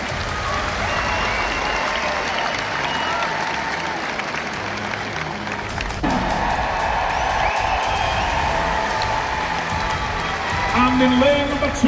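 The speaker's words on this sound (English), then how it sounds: "a massive round of applause for Mr. Ben Brunning" A large crowd at a strongman competition applauds and cheers strongman Ben Brunning after his performance. The dense, sustained applause has a swell of crowd noise, and a voice speaks briefly over it.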